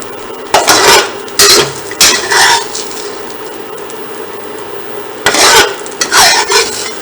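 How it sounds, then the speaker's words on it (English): Soy curls cook in a pan, heard as loud bursts of stirring and scraping against the pan with light sizzling between them. The bursts come in irregular clusters, separated by a quieter stretch, with no talking. "we are going to cook our second batch of soy curls"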